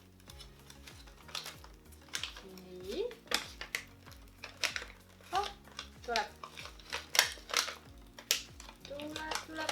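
A 250 g bag of orange gingerbread cookies, paper with a thin plastic film, is opened up close with crisp crinkling and rustling in irregular bursts as a person speaks briefly.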